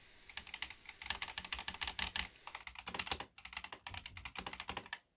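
Rapid clacky keystrokes on an Akko 5075S mechanical keyboard fitted with Akko linear crystal switches, a close, steady typing rhythm with brief pauses and no voices.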